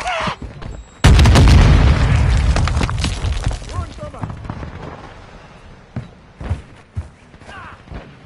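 Frag grenade going off in a shooter video game, a sudden loud, close blast with a heavy rumbling boom and splintering debris that decays over several seconds, followed by scattered gunshots and game sounds while a player talks before and after.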